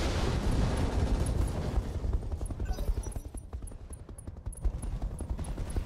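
Mech weapons firing on an enemy mech in Roguetech, a dense rapid volley of gunfire and explosive thuds, loud and continuous, thinning into distinct rhythmic shots toward the end, no talk.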